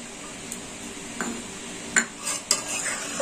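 Cashews and raisins being stirred in a pan for vegetable rice: a soft background sizzle with scattered spatula scrapes and a few metallic clinks, close by and without speech.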